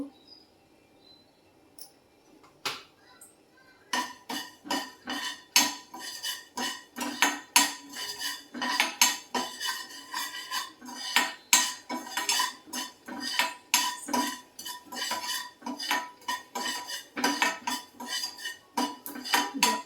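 Mustard seeds dry roasting in a pan while a metal spoon stirs them, producing rapid irregular clinks and scrapes against the pan, close and fairly loud after a quieter opening.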